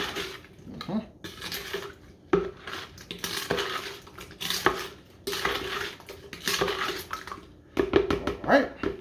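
Fruit punch being stirred and mixed in a container, with clinking of a utensil against the sides and sloshing liquid, intermittent, under a person talking nearby.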